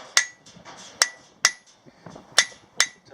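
A small metal bar is hammered on the corner of a vise to forge a leaf keychain, with six sharp, ringing blows spaced about half a second apart and soft clinks and shuffling between them.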